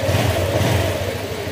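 Big bike motorcycle engine running steadily with a normal valve tick, a continuous close, loud mechanical drone with a low rumble and no talk.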